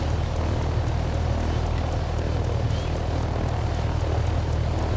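A helicopter in the game Take On Helicopters lifts off, its rotor and engine drone steady and fairly loud with a rhythmic blade chop throughout.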